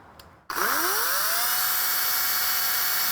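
A Stiga CS 300e battery-powered cordless chainsaw switches on after a click, its motor whining up in pitch within half a second and then running at a steady, loud, high drone close by, with no talk over it.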